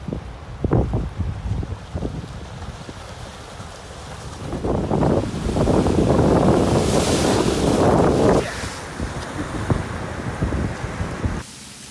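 Big waves of around six to eight feet on Lake Michigan crash and wash ashore in a steady roar, with strong wind buffeting the microphone. A louder surge swells midway through, then eases back.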